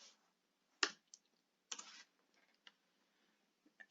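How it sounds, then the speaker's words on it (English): Someone types on a computer keyboard, producing a few sparse, close clicks and keystrokes with quiet gaps between them in a hushed room. "I will type in YouTube"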